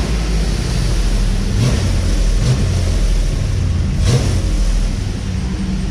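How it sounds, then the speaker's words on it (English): Dodge Dakota R/T pickup with a Mopar Performance exhaust idles with a deep, loud rumble, broken by several short throttle blips that swell and fade, with no talking. "But we'll get John to hit the gas here."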